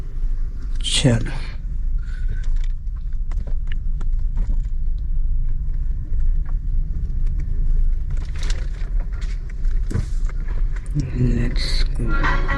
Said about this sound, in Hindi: भाई ट्रक को देखो, ये सभी ट्रक धीरे धीरे धीरे धीरे धीरे धीरे उतर रहे हैं।